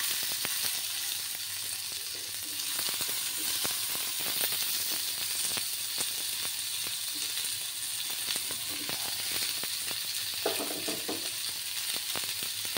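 Chopped tomatoes sizzle and fry in a hot pan for a tomato chutney, a steady broadband crackle with scattered spits and pops, close and continuous, with occasional stirring scrapes and no talking.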